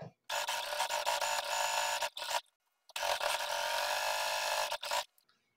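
Sewing machine stitching a second topstitch seam close to the edge on a front pocket, two fast steady bursts of motor buzz separated by a short pause, no talk.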